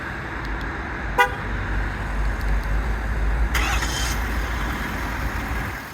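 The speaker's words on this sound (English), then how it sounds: "to do the remote start function, just make sure the vehicle is currently locked" A 2024 Ford F-250 Super Duty Lariat Tremor truck starts by remote, with a short horn-like chirp followed by the diesel engine rumbling up and idling steadily nearby, no talking.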